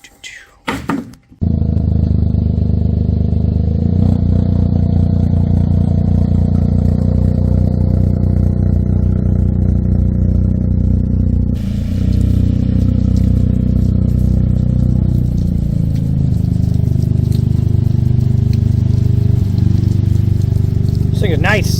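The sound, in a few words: Toyota GR Corolla engine with MBRP catback exhaust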